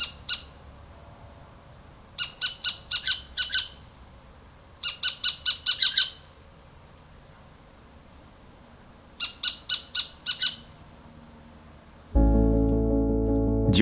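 Little owls giving alarm calls outdoors, repeated bursts of sharp, rapid squawking notes in clusters of four to six, fairly close and loud, separated by brief quiet spells, ending with a sudden steady low hum.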